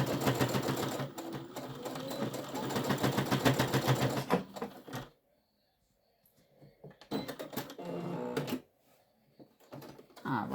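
A sewing machine stitches straps onto a fabric bag, sewing back and forth in short, close bursts of rapid needle clatter separated by quiet pauses.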